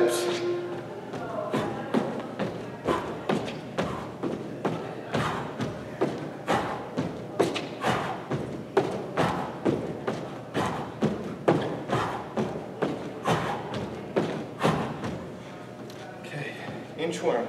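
Thumping steps or jumps during an indoor workout warm-up, a regular series of soft thuds at roughly two per second, with a voice heard along with them.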